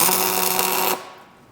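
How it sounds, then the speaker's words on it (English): A welder works on the front end of a Jeep XJ, a steady, loud crackling buzz that holds for about a second and then cuts off abruptly, leaving a faint quiet tail. "Who's that welding on my Jeep?"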